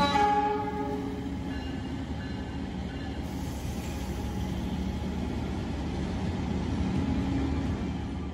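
A passenger train rumbles past up close in Indonesia in a continuous heavy roar, a horn tone fading at the start, steady throughout with no voices.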